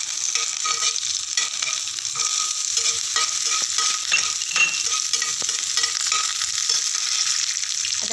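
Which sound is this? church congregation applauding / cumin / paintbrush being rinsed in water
cumin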